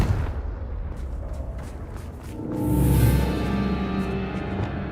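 A Confringo blasting curse in Hogwarts Legacy erupts as a single loud, rumbling explosion swelling midway, followed by a lingering tonal ring over a low background roar.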